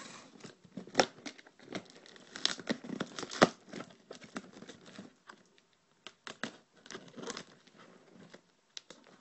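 Crackly, ripping bursts of brown packing tape being peeled and torn from a cardboard box, irregular and close, with brief pauses between pulls.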